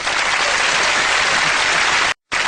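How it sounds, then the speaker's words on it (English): A studio audience applauds loudly and continuously, a thick, steady roar of clapping that cuts off abruptly for a moment near the end before resuming. "Give him a round of applause."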